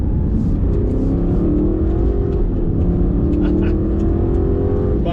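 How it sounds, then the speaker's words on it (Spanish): An Aston Martin Vantage N430's V8 engine revs loudly and continuously, its deep growl rising and settling with a rumbling exhaust throughout. "lo que más me ha enamorado de este Aston Martin Vantage es el sonido de su motor V8"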